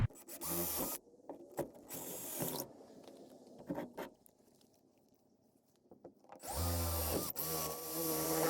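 A power drill with a drill bit whirs in several loud bursts while building a faux fireplace, separated by quieter stretches with faint handling clatter.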